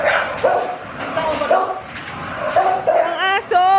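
Several dogs bark and yip close by in quick bursts, with excited high-pitched barks building toward the end over a busy background.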